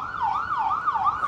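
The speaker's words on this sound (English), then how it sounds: "Ambulance." Ambulance siren wailing outside, a loud, steady up-and-down sweep cycling about twice in just over a second, heard alone with no voices.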